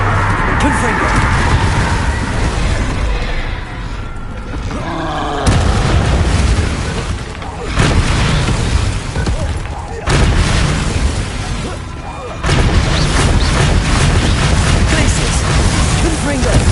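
Repeated blasting spell explosions in Hogwarts Legacy, loud dense bursts of booming rumble in several waves, layered over constant combat noise and voices.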